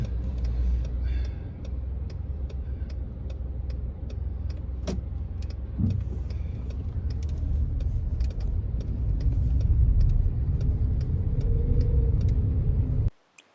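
A car creeps through the narrow streets of Mevagissey, a Cornish harbour village, with a steady low engine rumble and the rapid ticking of an indicator. Occasional knocks sound before the noise cuts off abruptly at the end.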